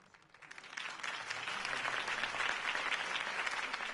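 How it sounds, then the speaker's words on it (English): Crowd applause in the video game Batman: The Telltale Series swells up quickly after a quiet start, then holds as a dense, steady wash of clapping. "could have heard that applause"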